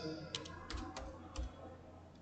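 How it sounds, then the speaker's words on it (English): Several quiet keyboard clicks in short bursts over a faint background hum, no voices present. "So I'll be typing here the field name"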